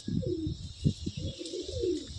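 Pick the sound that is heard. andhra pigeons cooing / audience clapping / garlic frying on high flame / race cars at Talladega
andhra pigeons cooing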